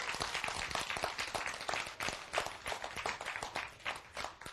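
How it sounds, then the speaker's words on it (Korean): An audience at a Korean lecture applauds with dense, fairly faint clapping that continues steadily for several seconds. "박수."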